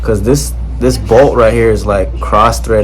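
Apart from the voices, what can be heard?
No everyday noises stand out.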